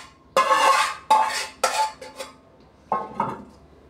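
Dishes clatter and clink as they are moved into a bowl for washing: several sharp, close ceramic and metal knocks in quick bursts, a pause, then two more knocks.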